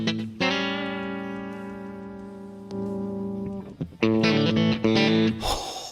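Clean electric Telecaster guitar run through a Kuassa Amplifikation amp simulator, ringing chords sustaining and slowly decaying, a second strummed chord, then a brighter burst of fresh strums near the end, no talking.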